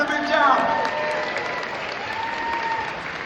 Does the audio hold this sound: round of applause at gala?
yes